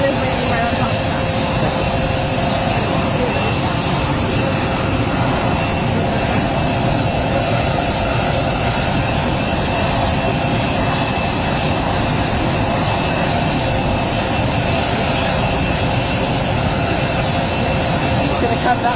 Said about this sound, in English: It's Marine 1 is landing right on top of that.